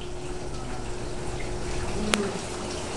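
Waterfall in a video game about alien plants, a steady rushing water sound at moderate level with a brief sharp click partway through.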